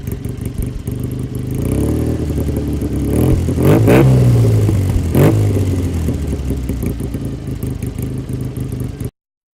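A car engine fitted with a Fitech EFI two-step rumbles at idle, then is revved hard twice in a row, the roar climbing and falling back, before the sound cuts off abruptly.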